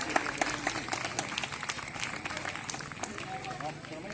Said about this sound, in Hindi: कम तालियां क्यों बज रही है? बजाइए।